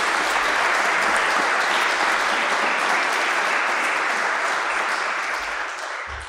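Audience applause fills a church apologetics conference hall for a debate guest, a dense, loud, sustained clapping that continues throughout and only begins to fade near the end, with no one speaking.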